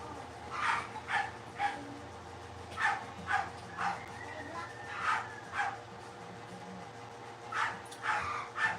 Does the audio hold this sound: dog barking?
yes